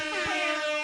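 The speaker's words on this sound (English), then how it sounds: "We have an air horn now." An air horn played from a soundboard blares in one short, loud, sustained blast, brassy and harmonic-rich, lasting under a second.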